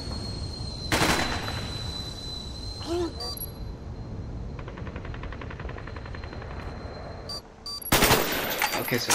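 Sharp bursts of gunfire from Call of Duty Black Ops crack loudly near the start and again near the end, with steady game background noise and electronic tones between them.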